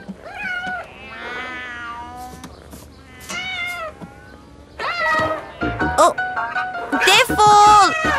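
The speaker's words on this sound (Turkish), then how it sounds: "Ama neden bu kadar kedisi olmak zorunda ki?" Several cats meowing loudly and close, overlapping drawn-out, wavering meows with a pause midway, then a denser burst of yowling toward the end, some of it rising into caterwauling.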